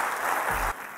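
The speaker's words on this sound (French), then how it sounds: "qu'on applaudit très fort" An audience at a French leadership talk show clapping loudly for a guest, a dense burst of applause that drops off sharply near the end.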